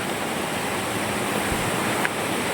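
A waterfall in the Philippines roars as a steady, dense wash of broadband rushing water, loud and unbroken throughout with no talk over it.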